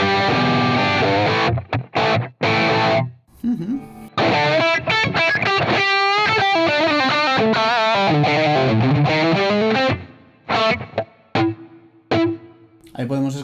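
Electric guitar run through the Blackstar St. James amp plugin on its Brown Crunch preset, a Marshall-style crunch, loud and distorted with chords, single-note lines and bends, ringing sustain and brief pauses, with no voice.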